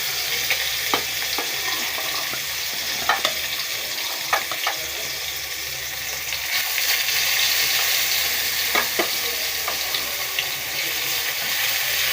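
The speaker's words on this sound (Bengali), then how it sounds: "যে আমি মাছটা ভেজে নিচ্ছি হালকা একটু হালকাভাবে ভাজবো" Yellow fish rubbed with turmeric and salt frying over lowered heat gives a loud, steady hiss with small crackles and occasional pops, and the sizzle thickens slightly midway.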